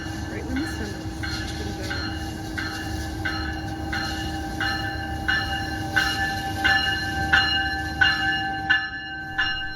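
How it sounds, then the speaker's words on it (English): A Metrolink commuter train with bi-level cars, heard from aboard or beside it, with a steady rumble and a regular repeating bell-like chime that grows a little louder toward the end. "Our train is Metrolink number 210, which originates here in Via Princessa."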